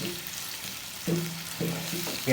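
Chopped onions frying in oil for a hilsa fish curry, a steady soft sizzle broken by a few spoon scrapes and stirs against the pan, close and moderately loud, with no voices.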